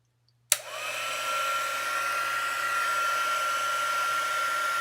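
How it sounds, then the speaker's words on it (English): A heat embossing tool switches on with a sharp click and then blows a steady, loud whirring hiss of hot air over embossing powder on a card, running continuously without any voices. "let me get the heat embosser, the heat tool rather is what they call it"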